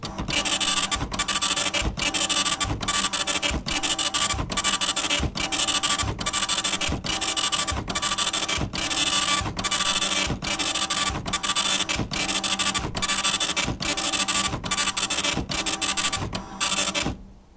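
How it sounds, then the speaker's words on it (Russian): A Robotron 1715 computer's dot matrix printer prints a disk directory listing steadily, its harsh buzzing rasp broken by regular short pauses as the head returns, loud and close throughout. "пойдет синхронный вывод каталога диска на монитор и на принтер"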